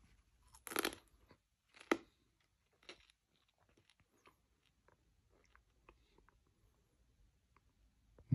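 Child biting and chewing crunchy food up close: two sharp crunches in the first two seconds, then fainter scattered chewing clicks, with a louder knock at the end.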